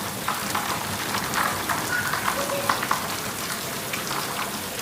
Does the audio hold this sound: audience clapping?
no